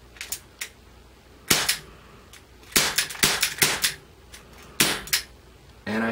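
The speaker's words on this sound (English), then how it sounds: "Cleanly fired all 10 pellets." Crosman .357 pellet revolver firing a string of sharp cracks, about eight irregularly spaced shots each with a short metallic click, close and loud with no talk.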